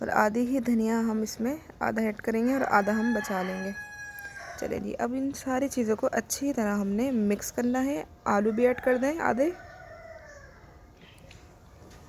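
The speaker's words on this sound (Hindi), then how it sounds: "पीछे मेरे मुर्गी की आवाज़ आ रही होगी आपको" Hen or rooster crowing and clucking somewhere in the background of a home kitchen while black chana chaat is being mixed, repeated bird calls mixed under near continuous talking.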